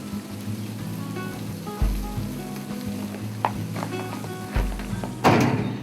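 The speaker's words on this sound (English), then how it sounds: "We're gonna move that firebox down, turn this thing into a smoker. Little crank of the handle. This thing goes all the way down." The firebox of a Hasty Bake charcoal grill is cranked down by its handle: a few dull metallic clunks spaced out over a steady background sizzle, ending in a louder clattering rattle.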